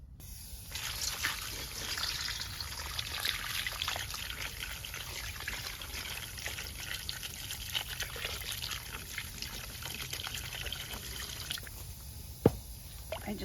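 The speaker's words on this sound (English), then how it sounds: "I just like getting the main part of the dirt off of these before I take them in and wash them" Water splashing and trickling steadily over freshly picked garden vegetables outdoors, a continuous close pour rinsing off dirt before they are taken inside for washing, with a brief sharp knock near the end.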